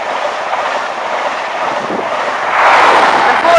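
An East Coast high-speed train set, power car 43314, rumbles through Newark North Gate station with a steady rolling roar that swells louder near the end.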